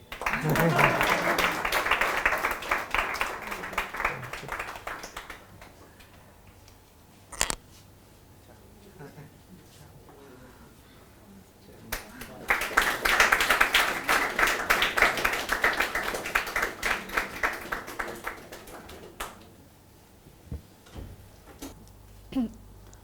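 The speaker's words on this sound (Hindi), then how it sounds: "ताली बजाते रहो." Audience applause at an event honouring a civil services exam topper, dense clapping swelling at the start, fading, then rising again midway before thinning out.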